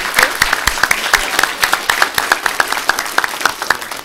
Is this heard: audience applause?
yes